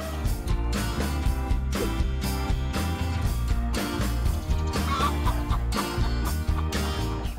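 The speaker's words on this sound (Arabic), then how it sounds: "هذه دجاجة." A chicken clucks repeatedly against a steady, upbeat musical backing.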